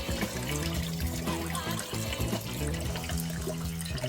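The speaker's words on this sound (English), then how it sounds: "unscrew the main cap and let all the remaining water poured out" Remaining water pours and trickles steadily out of a Pinter home-brewing keg after its main cap is unscrewed, a continuous close splashing flow with a low gurgling undertone.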